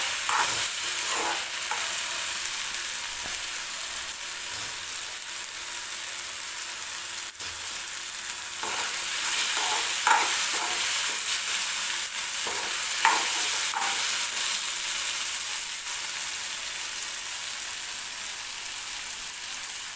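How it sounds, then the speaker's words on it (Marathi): Tomatoes sautéing in a pan for onion-tomato chutney, a steady close sizzle and fry with repeated scraping stirs of a spoon through the pan, no voices. "बघा टोमॅटो परतला"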